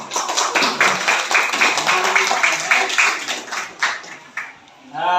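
Children at an elementary school clap their hands together in a lively, fairly steady rhythm of many overlapping claps, with a voice joining near the end.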